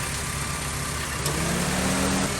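A 2006-2011 Honda Civic engine idles steadily after a thermostat replacement, a low, even hum with a faint mechanical hiss that holds constant throughout, close by and without speech.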